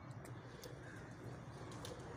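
Rooftop pigeons being prepared for competition, faint cooing under a steady wash of outdoor background noise, distant and low in level, with no voices.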